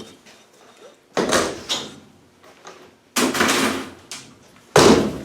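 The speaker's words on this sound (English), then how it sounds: "Give the door a slam." A few sharp cabinet door bangs land one after another, loud and close, separated by quieter shuffling and handling noise, from a VapourMax Pro 750 cabinet.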